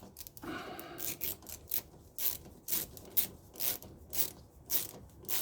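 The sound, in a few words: tightening Audi A3 fuel filter housing screws in star pattern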